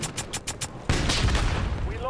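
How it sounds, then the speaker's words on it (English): Rapid automatic gunfire in the video game Black Ops 6 Warzone, a few spaced shots followed by a loud, dense burst of sustained firing up close, with game voice callouts mixed in. "Taking fire!"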